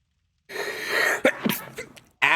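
A single sharp sneeze bursts out after a brief silence, loud and close, followed by a few breathy gasps and another short exhalation at the end.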